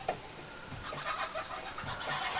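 A bird in the video game 7 Days to Die gives a short run of cackling, laugh-like calls, faint and choppy over low background game noise.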